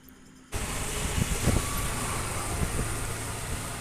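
A motorbike carrying two riders travels along a winding rural road, starting abruptly as a loud, steady rush of wind and engine noise with a few brief knocks over it and no voices.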